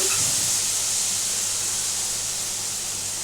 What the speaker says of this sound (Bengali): আচ্ছা এবার আমি এখানে পরিমাণ মতো জল দিচ্ছি